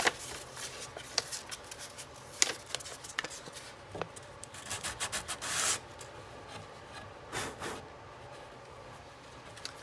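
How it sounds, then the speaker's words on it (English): Sandpaper wrapped on a block rubbing along plywood edge banding, quiet irregular scratchy strokes in short bursts with brief pauses, close up and with no voices. "you can just take it the rest of the way with sandpaper. Maybe sandpaper on a block."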